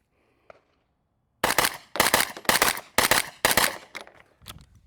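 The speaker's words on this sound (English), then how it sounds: "Here we go, 10 shots into the black paster with the 85-pound recoil spring." Ten shots from a JP5 rifle fitted with an 85-pound recoil spring, fired at a black paster target: sharp, loud cracks in a quick, fairly even string that starts after a brief silence, the last few spaced a little wider.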